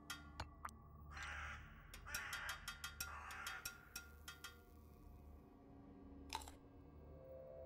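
Crows cawing in the video game Bad Dream: Coma, in a graveyard setting: a series of sharp, clicky caws in an irregular burst, then a lone call after a pause, over quiet low ambience.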